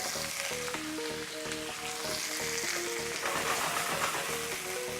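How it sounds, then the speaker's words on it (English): Apples frying in a pan with pork fat, a loud, dense, steady sizzle and crackle up close, with some stirring and a tonal melody running underneath. "Okay, I'm going to put the apples in."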